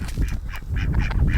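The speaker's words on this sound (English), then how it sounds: "the crazy ducks have no desire to be in a shelter" Ducks quacking and honking outdoors in deep snow during a harsh winter cold snap, a busy run of overlapping calls from several birds close by.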